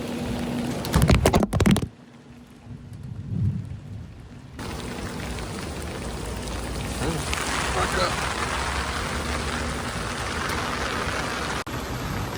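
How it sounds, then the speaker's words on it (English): Heavy rain pours steadily in a flood and tornado storm, a dense continuous hiss after a brief burst of louder sounds at the start. "Rain picked up, had to go back for my umbrella."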